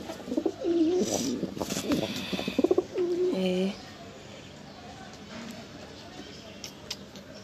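A domestic hunting pigeon coos in a few low throaty calls, near and moderately loud, with faint chirps and ambient noise after the calls stop.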